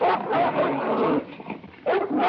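A dog whimpers and yips loudly and close by in a series of high, strained cries with a brief pause before a final whine.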